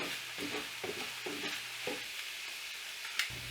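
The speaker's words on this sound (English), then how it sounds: "We can add in the garlic. Give this a really good stir." Vegetables with peppers and garlic being stirred and sautéed in a pan for a gluten-free green chili casserole, with a steady soft sizzle and repeated scraping strokes of a utensil, close up, no talking.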